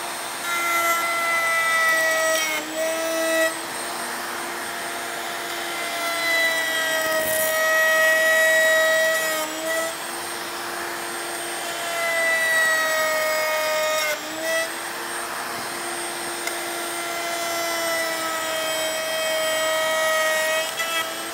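A router table cuts a quarter-inch rabbet in wood for a picture frame, the motor's high whine holding steady near the mic while the bit chews through the stock, with brief dips and changes in load as the piece is fed.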